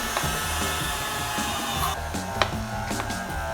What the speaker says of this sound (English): I'm about to grind some meat